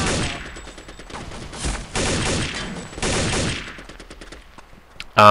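Turret gunfire in Counter-Strike: Condition Zero Deleted Scenes, heard as loud sustained bursts of rapid automatic fire that start and stop several times, followed by a few sparser shots, with no voices.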